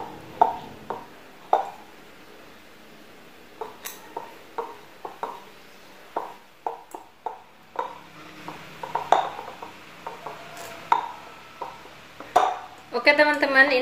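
Fork clinking and scraping in a bowl while mashing fermented cassava (tape) for donut dough, sharp repeated taps and scrapes at an irregular rhythm, close and fairly quiet, with brief faint talk in the background.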